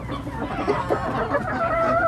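A Gold Brakel rooster clucks in a coop, its short, uneven calls rising over a busy backdrop of other fowl, with a faint crow-like note near the end.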